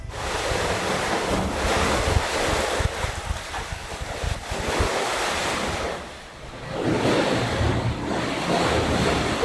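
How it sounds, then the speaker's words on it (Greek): Sea waves surge and break inside a sea cave on Koufonisia, a rough roaring wash with wind buffeting the microphone and a short lull before the water rushes back in. "και ακούς το κύμα να σκάει"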